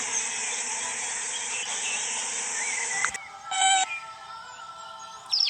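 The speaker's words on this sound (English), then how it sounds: "Bees and other insects come out too." Spring insects such as bees buzz and trill in a steady, fairly faint high drone, with a few brief clicks and small knocks after a short break near the end.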